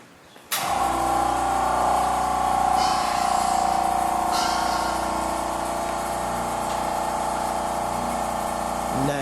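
Air ride suspension on a 1956 Ford F100 custom pickup starts abruptly with a steady compressor or pump whir and hiss that runs for several seconds, close and moderately loud, easing slightly near the end.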